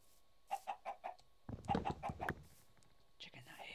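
Chickens clucking in the video game Minecraft, a series of short, evenly spaced clucks in two bursts, heard under soft whispered talk from a player.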